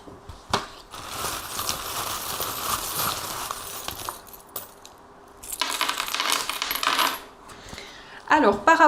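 Small divination charms tossed onto a surface during a card reading, a clattering metallic jingle of several pieces landing close by, with a sharp rattling burst of scattered clinks near the end.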